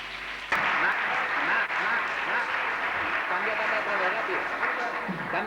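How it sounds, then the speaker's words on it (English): Audience applause for a dance performance at a 1987 stage show, a steady broad clapping wash that starts abruptly and carries on loudly, with voices mixed in. "de Souza and his assistant Tatiana Oliveiro deserves another round of applause for a very imaginative piece of dance."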